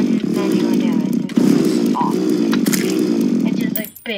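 Video game chainsaw weapon buzzing loudly and continuously at close range, a steady revving motor drone that runs under ongoing talk for the length of the clip.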